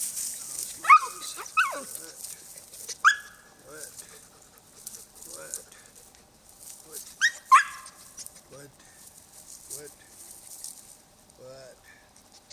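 Nine-week-old Norwegian Elkhound puppies on a mountain hike give scattered whimpers, yips and short barks, close by and irregular, with someone talking between them.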